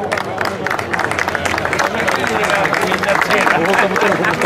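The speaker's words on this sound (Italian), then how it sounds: "Un applauso anche a Mercuri." A crowd at a hillclimb race prize ceremony applauds a podium finisher, with moderately near clapping that swells over a few seconds, mixed with crowd chatter and voices.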